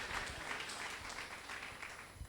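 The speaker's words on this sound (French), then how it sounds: "Acclamons pour le Saint-Esprit." A church congregation at a prophetic sermon breaks into steady, dense applause and cheering in praise of the Holy Spirit, a continuous roar of clapping filling the room with no one speaking over it.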